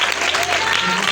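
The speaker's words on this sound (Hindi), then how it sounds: "और एक बार फिर जोरदार तालियां अजीम फतह के लिए" A church congregation claps loudly together during a Hindi-language service, a short dense wave of applause filling the room with crowd noise beneath.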